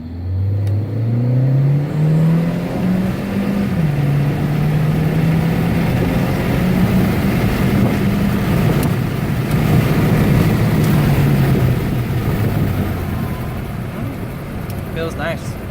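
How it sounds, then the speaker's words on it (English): A 2015 Hyundai Sonata Eco with a turbocharged 1.6-liter engine, modified intake and exhaust, pulls from a 20 mph roll, its engine note climbing steadily in pitch for several seconds before easing off, loud and close, with road and wind noise throughout. "So let's see how it does from a 20 roll."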